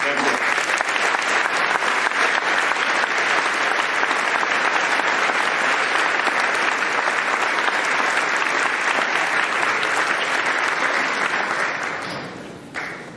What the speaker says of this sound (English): Would Pat and Cindy please stand and receive a well-deserved round of applause?